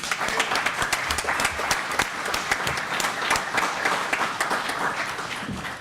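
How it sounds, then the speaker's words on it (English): Audience at a mining industry conference applauds steadily, a dense, loud wash of many hands clapping that continues without talk for several seconds. "round of applause, please, for the effort"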